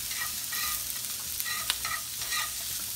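Onions sautéing in a hot pan, turned with tongs while cooking duck, give a steady close sizzle with light scraping and stirring clatter throughout.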